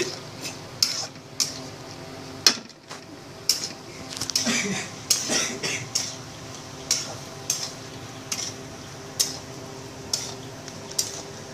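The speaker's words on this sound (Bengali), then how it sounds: "এবার এটা একটু নেড়ে নিতে হবে, তাহলে মটরের গায়ে মশলাগুলো ভালো করে লাগবে।" Soaked peas stirred with spices in a pot, a spoon clinking and scraping against the metal in a steady rhythm of sharp taps over a low simmer, with a voice speaking at times.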